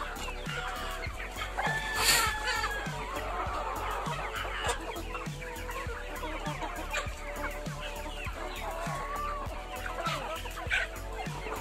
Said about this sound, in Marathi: शामरुग कोंबडी जी आहेत आमच्या